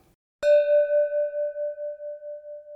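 A bell rings at the door of a drop-in listening centre as a person enters: a single clear strike, close and alone, its bright tone slowly fading over a couple of seconds.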